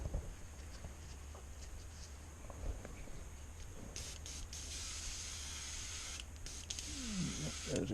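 An airbrush sprays paint onto a fire tiger crankbait lure, a soft, steady hiss of air that runs continuously at low level, growing a little louder and fuller in bursts partway through.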